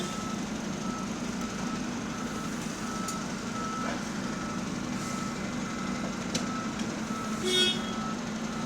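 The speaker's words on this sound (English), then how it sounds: "He's beeping so everyone's aware." A bus on route 278 sounds reversing beeps, steady and faint under a constant idling engine rumble, with one slightly louder beep burst near the end.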